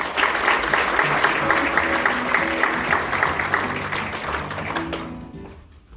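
Applause from delegates at a Korean labor union federation convention greeting the federation chairman, a dense, steady wash of many hands clapping that holds for several seconds and then thins and fades toward the end, with faint background murmur.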